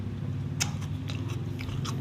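Crispy fried egg and jengkol crunch between the teeth in a few sharp bites and chewing sounds, close up over a steady low hum, with no talking.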